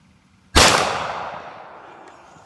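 A Rossi .44 Magnum fires a single shot into a watermelon: one sharp, loud crack followed by a long reverberant tail that fades over a couple of seconds.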